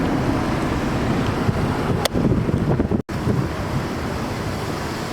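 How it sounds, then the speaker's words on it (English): Wind outdoors in a city in Colombia buffeting the microphone, a constant loud rumbling roar with a brief dropout partway through and no talking. "because there's a lot of wind around me."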